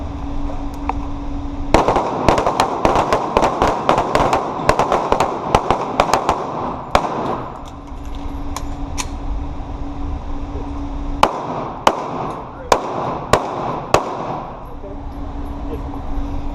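Taurus G2C pistol shots ring out on a shooting range during a defensive handgun drill, sharp repeated reports in quick strings, some clustered and some spaced, with several shooters firing over a steady background hum.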